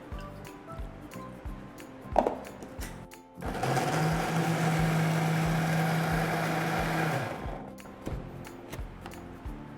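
A kitchen mixer grinder runs in one continuous burst of about four seconds, grinding coconut with coconut water into a paste. The loud, steady whir is framed by quieter clinks and handling noises before and after.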